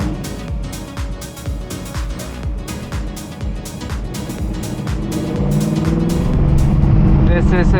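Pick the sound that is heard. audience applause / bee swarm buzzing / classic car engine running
classic car engine running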